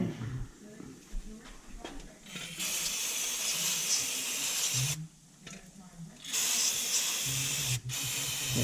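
Cleaner sprays in hissing bursts onto an oily Toyota Hilux engine during a 1UZ V8 swap. The spray comes in two long bursts with brief pauses and a shop backdrop between them, and a voice speaks faintly underneath.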